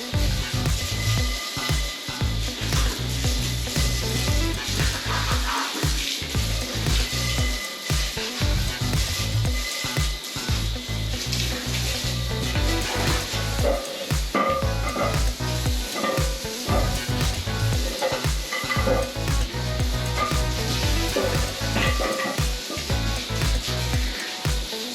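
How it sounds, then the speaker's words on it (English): Water spraying over car wheels during a rinse, a steady loud hissing splash that runs on without a break, with small shifts in the spray's texture and no voices. "So I'm going to rinse these off now and see what they look like afterwards."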